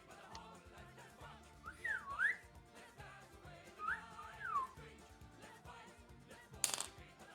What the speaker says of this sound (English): Can I whistle again?